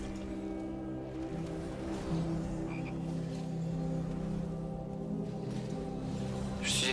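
Frog croaking from the World of Warcraft video game, a low, steady repeating croak layered with soft game ambience, with a brief bright sound burst near the end.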